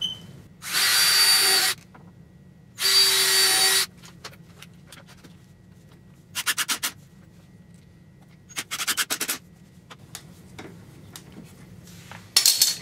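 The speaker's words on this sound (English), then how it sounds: "I'm going to get that drilled in and then screwed in." A cordless power drill drills and drives screws into a wood block while building a portable LED shop light, with two sustained whirring runs followed by shorter stuttering bursts, close and loud in a quiet room.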